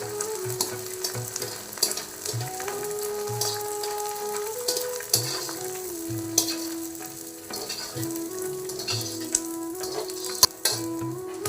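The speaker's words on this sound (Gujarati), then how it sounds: "લોટ શેકાવાનું ચાલુ થઈ ગયો છે." Gram and urad flour roasting in ghee in a pan for winter adadiya, a steady close sizzle and crackle with soft stirring scrapes and occasional spoon taps on the pan, no voices.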